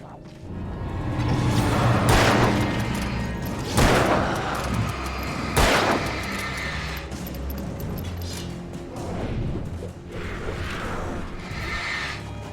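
Bombs going off in the video game Alan Wake 2: three heavy, booming blasts a couple of seconds apart, followed by softer rumbling and scattered crackling.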